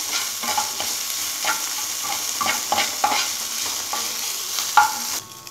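Ginger garlic paste fries in a pan with a steady close sizzle, broken by repeated scrapes and stirs of a spoon at an uneven rhythm, and no voices.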